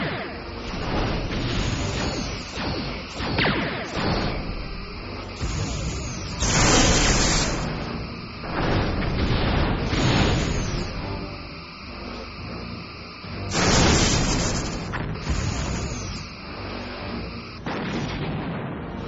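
Torpedoes launching from a starship's torpedo tubes in the video game Star Trek Bridge Commander: a run of loud bursts and booming blasts, several bright whooshing discharges standing out among rumbling impacts.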